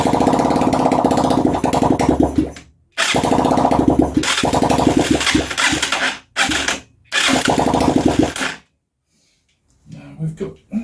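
Huaniao HN125 Chinese motorcycle engine running loud through its exhaust pipe in several bursts of a few seconds each, cutting out briefly between runs and then going quiet near the end.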